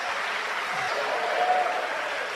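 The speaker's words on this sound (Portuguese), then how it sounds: "Aplauda bem forte ao teu Senhor" A church congregation applauds their Lord in a steady, dense wash of clapping that holds evenly throughout, with no voices standing out.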